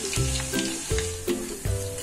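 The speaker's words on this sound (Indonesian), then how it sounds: "Kemudian kita goreng sisa ayamnya sambil diaduk-aduk" Chicken pieces frying in hot oil while being stirred, a steady loud sizzle with rhythmic bursts as pieces shift and are turned, close by with no talking.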